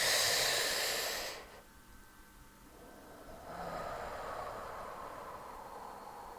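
A single deep inhale during a guided breathing exercise, a soft airy rush drawn in slowly and close, alone without talk before fading into quiet room noise.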